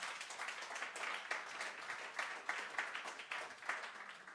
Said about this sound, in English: we can give him a good applause